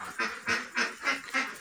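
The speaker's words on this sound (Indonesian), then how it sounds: "ketika ternak bebek petelur ini" Laying ducks on a duck farm quacking close by, five rhythmic nasal quacks evenly spaced in quick succession, loud and alone.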